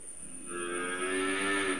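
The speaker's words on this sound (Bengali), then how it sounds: "হলস্টাইন ফ্রিজিয়ান বাচ্চা" A Holstein Friesian heifer calf moos once, a drawn-out nasal bellow rising and holding for over a second, fairly close, with a faint steady background hum and no speech.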